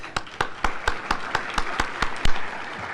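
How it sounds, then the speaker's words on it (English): Applause for an award winner at a closing awards session: sparse, sharp claps landing in an even rhythm about four times a second, as if only a few hands join in. "Stand up and get your round of applause"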